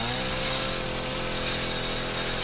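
A chainsaw engine in the video game Resident Evil 7 running loud and steady, a constant buzzing drone that never lets up.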